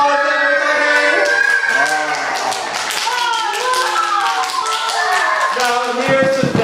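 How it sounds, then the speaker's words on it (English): An audience at a kamishibai storytelling session in Point Roberts claps steadily for several seconds while voices carry on over the applause. "Round of applause, everybody."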